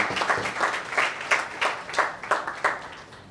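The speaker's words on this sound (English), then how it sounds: "Give us another round of applause" A small audience claps in a brief round of applause at a Trinidad political gathering, a steady patter of hand claps, moderately faint and slightly distant, lasting a few seconds.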